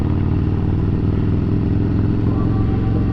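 Steady, loud rumble of a Harley-Davidson motorcycle being ridden with a passenger through a neighborhood, a continuous low throbbing engine drone.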